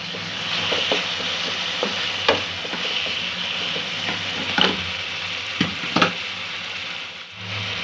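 Peas and pulao ingredients sautéing in a pan, a steady sizzle broken by the scrape and clatter of a spoon stirring at irregular intervals, close and fairly loud with no talking.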